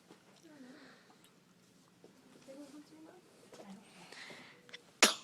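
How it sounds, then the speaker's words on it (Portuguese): A little girl lets out one short, sharp sneeze near the end, loud and close, after several seconds of quiet household background with faint murmuring. "Você filmou espirrinho?"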